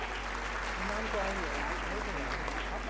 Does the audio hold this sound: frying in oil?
no